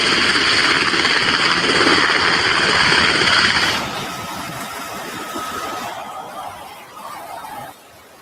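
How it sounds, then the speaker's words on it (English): A helicopter flies overhead during a ship boarding at sea, a loud, close roar of engine and rotor that drops noticeably in level partway through, then fades further near the end. "helicopter in the air."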